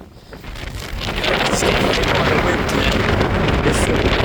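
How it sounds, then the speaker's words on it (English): Strong wind on a Dartmoor hike buffets the microphone in a loud, continuous roar that builds over the first second and then holds steady. "It's extremely windy"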